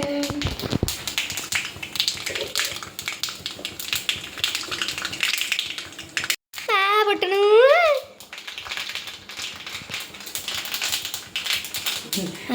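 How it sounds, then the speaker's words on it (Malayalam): Mustard seeds pop and crackle in hot oil while a jackfruit and green gram curry is being made, with rapid, irregular close snaps and a brief voice speaking partway through. "കടുക് പൊട്ടൽ കഴിഞ്ഞു"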